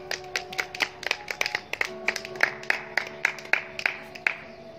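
A church congregation claps in a steady, fairly even rhythm, with crisp close claps repeating for several seconds and no talk over them.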